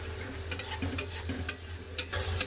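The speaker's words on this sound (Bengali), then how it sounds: "সরষা পোস্ত বাটা সামান্য একটু জল দিয়ে দেবো মশলা বাটার জল একটু ভেজে নেবো" Mustard and poppy seed paste fries in a pan with a steady low sizzle, broken by repeated scraping stirs and a few sharper clinks of the utensil against the pan, close up.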